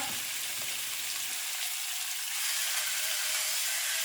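Diced canned artichoke hearts fry in oil seasoned with salt and pepper, giving a steady bright sizzle that swells louder partway through, with light stirring clicks and no talking.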